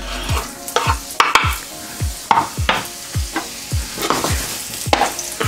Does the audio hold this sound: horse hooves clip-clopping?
no